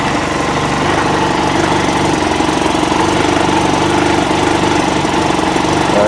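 A snowmobile engine idles steadily, a loud, close, continuous mechanical rumble with a faint knocking texture and no voices.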